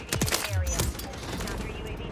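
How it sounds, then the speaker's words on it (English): A sentry gun in a video game rattles off a quick, loud burst of automatic fire, then a fainter stream of shots continues beneath a talking voice. "look at the sentry gun go"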